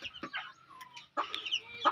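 A mother hen clucks among her chicks being offered for sale: short, close clucks in two bursts separated by a brief pause, with thin higher calls mixed in.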